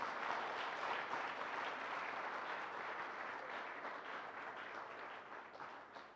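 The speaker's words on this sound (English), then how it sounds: "And the men, give your loudest applause to these ladies." An audience at the Kenya Top 100 conference gives a sustained round of applause for women leaders; the dense, even clapping stays fairly distant and soft throughout.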